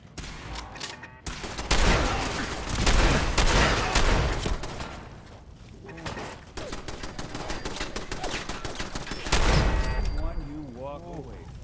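Rapid bursts of gunfire from the video game Fallout 4, loud dense volleys with brief gaps between them, mixed with other game effects and speech.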